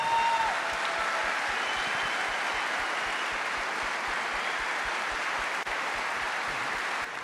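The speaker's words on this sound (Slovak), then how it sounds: "prosím vás pre Daniela jeden gigantický, obrovský potlesk." An audience gives sustained applause for a Formula racing fan named Daniel, an even, continuous wash of clapping that holds steady for several seconds with no talk over it.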